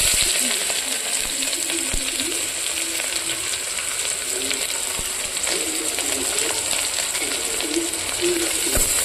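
Chopped onion sizzles steadily in hot oil in a pan with cumin for pea pulao, a continuous bright frying hiss with faint occasional ticks of stirring.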